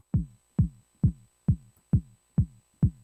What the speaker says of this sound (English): this right here is the original part of the kick, and this is the distortion artifacts